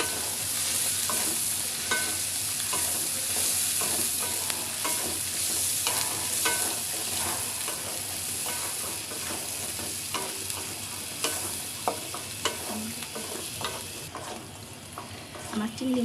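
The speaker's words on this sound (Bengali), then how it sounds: "এখন দিয়ে দিচ্ছি চিংড়ি মাছ।" Large prawns stir-fried in a cooked spiced masala with turmeric, a constant close sizzle broken by repeated spatula scrapes and clinks against the pan over a steady frying hiss.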